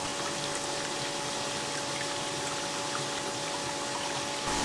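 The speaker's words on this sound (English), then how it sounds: "pushing clean water through the system, dumping dirty water on the other side" A power flushing pump drives water through a central heating system, a steady loud rushing whoosh with constant hum running unbroken throughout, no voices.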